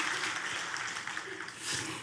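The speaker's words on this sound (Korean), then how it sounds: "박수로 축복하겠습니다." A church congregation at a Christmas thanksgiving service breaks into brief, dense clapping that fills the room for a couple of seconds.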